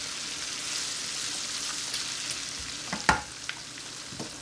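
Garlic frying with bacon in a pan for carbonara, a steady close sizzle with a few sharp utensil scrapes and taps partway through.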